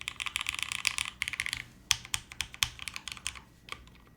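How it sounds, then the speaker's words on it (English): Typing on an Alexa mechanical keyboard, a close, quick run of clacky keystrokes in bursts followed by slower, spaced individual key presses. "This spacebar probably needs a little bit of tuning to it, but it is kind of flat sounding overall."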